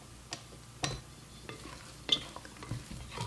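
A spatula mixes 9-grain walnut bread dough in a bowl, giving soft, sporadic scraping and sticky slapping strokes with a few sharper knocks against the bowl, close and quiet with no talking.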